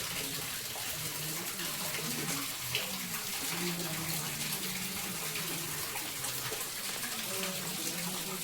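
A waterfall on the hill at Maa Barunei temple in Khordha, Odisha, rushes in a steady broadband wash of falling water, constant and fairly close, with faint voices mixed underneath.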